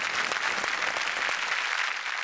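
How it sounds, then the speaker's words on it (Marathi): A studio audience at a Marathi comedy show breaks into steady, full applause, a dense wash of many hands clapping together with no speech over it. "वडिलांसाठी विशेष टाळ्या"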